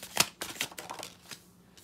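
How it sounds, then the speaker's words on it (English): Tarot cards are shuffled close up, giving a few quick riffling and slapping bursts followed by softer scattered card sounds. "these cards are so hard to shuffle."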